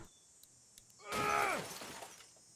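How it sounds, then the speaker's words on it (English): Police car window glass shattering after being kicked out in the Walking Dead video game, a single bright crash with ringing shards trailing off over about half a second, mid-loud with no talk. "Let me just kick out this window."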